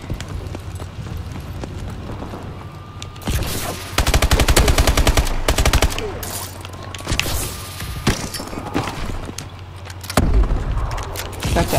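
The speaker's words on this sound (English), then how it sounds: "Pop a couple shots off." Rapid gunfire bursts ring out in Advanced Warfare, loud and dense, with sustained automatic volleys around the middle and a final burst near the end over a steady game hum.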